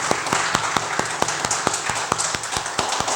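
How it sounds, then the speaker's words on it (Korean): A church congregation at a Korean Sunday worship service claps in unison, a fast, even beat of sharp claps repeating steadily throughout, with no talking over it. "살아계신 하나님께 다시 한번 영광의 박수 올리겠습니다."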